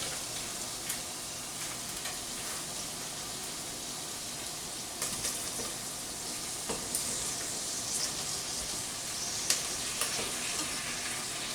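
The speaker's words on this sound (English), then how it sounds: "Now in goes our tomatillos." Tomatillos sautéing in a pan with garlic and onions, a steady broadband sizzle running throughout at moderate level, with a few faint clicks and stirring taps scattered over it.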